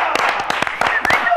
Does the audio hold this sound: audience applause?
yes